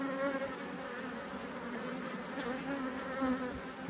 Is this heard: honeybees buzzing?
yes